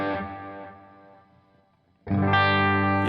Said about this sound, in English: Maybe they want that distortion to be a little bit louder